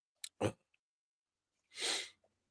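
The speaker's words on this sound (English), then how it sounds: "give me a second, I gotta sneeze" A single close sneeze with a quick sharp intake of breath before it, followed by a brief sniff, otherwise quiet.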